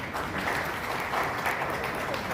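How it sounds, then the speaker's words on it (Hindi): A political stage gathering breaks into audience applause to welcome a speaker, a brief, dense burst of clapping from the crowd. "इस्माइल साहब का हम चाहेंगे कि तालियों से स्वागत किया जाए"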